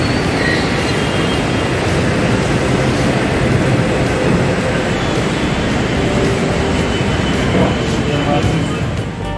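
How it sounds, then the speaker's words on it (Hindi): A loud, steady rumble of a Jaipur Metro train arriving at an underground station, broad roaring noise with faint squealing tones over it, holding constant before easing slightly at the end. "here comes my metro train"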